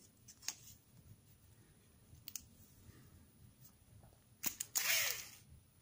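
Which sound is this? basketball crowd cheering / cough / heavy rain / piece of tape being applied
piece of tape being applied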